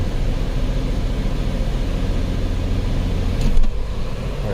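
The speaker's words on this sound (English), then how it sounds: "Brake torquing again, like we did before when it misfired." Steady engine drone from a 2010 Chrysler Sebring convertible's 2.7L engine held against the brakes in reverse, a continuous close low rumble with a slight surge near the end, no talking.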